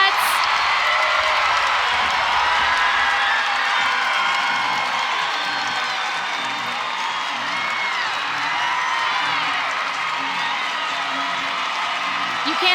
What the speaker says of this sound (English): Crowd is going nuts.